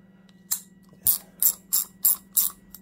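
An old BlackHawk hand ratchet, freshly cleaned and oiled, gives six crisp close clicks at an irregular pace over a faint steady hum.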